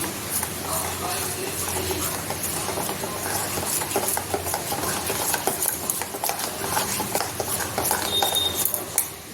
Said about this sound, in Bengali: একটু একটু জল দিয়ে দিয়ে ফেটে নেব।